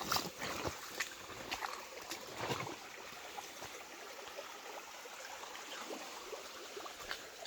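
A flowing mountain stream at night in a quiet Sierra village, its steady broadband wash continuous throughout with a few brief louder splashes or knocks early on.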